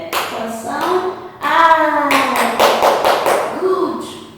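Young preprimary children in a classroom clap their hands in quick bursts of taps, mixed with loud voices of teacher and pupils talking and calling out over the applause.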